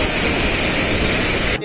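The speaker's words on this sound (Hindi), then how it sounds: "और ये देखिए बेहतरीन वाटरफॉल" A waterfall near Ransi village pours as a loud, steady broadband roar up close, filling the short moment before cutting off abruptly at the end.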